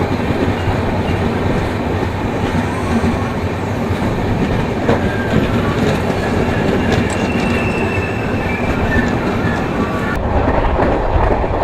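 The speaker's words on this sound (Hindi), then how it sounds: "तो ट्रेन अपने अगले हॉल्ट पर आ चुकी है और इसका नाम है मिर्ज़ा।" A passenger train runs on rails through North East India, a loud continuous rumble with rhythmic clatter and metallic wheel squeal heard from on board.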